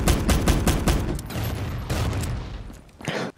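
Rapid bursts of gunfire ring out in a zombies video game, loud dense volleys of shots with short gaps, ending in a final flurry.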